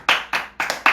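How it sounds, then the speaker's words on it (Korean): Four sharp, close hand claps spaced evenly at a steady rhythm, called for during a family worship service marking Pentecost, each burst crisp and bright with no talking. "박수!"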